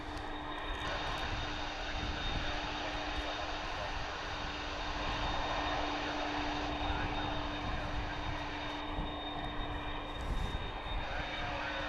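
Old jet airliner engines roar steadily at DFW International Airport, a broad, continuous distant rumble with a faint sustained whine, heard without talk.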